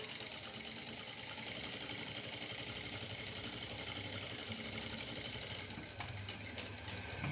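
A sewing machine stitches a blouse seam at a half-inch allowance, with a fast, even mechanical whirr that runs steadily up close and then slows into a few uneven clatters at the end.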